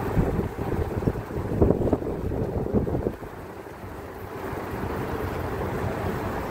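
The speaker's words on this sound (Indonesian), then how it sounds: "Kapten kapal berusaha menjaga keseimbangan kapal agar dapat merapat di dermaga dengan benar." Lembata Express fast ferry, heavily loaded with passengers and cargo, easing up to a pier: a steady low engine rumble mixed with wind buffeting and water wash, louder for the first three seconds and then settling into a softer continuous drone.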